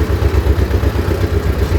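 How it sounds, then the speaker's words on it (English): Two-cylinder engine of a T16M tractor running, a loud, steady low chugging pulse with an even, rapid rhythm that continues without a break. "And it has 2-cylinder engine"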